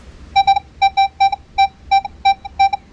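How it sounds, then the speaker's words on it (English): A Minelab X-Terra Pro metal detector set to two tones responding to a dime: a series of about ten clear, evenly spaced paired beeps, loud and close with no talking. "Now let's see what the dime sounds like."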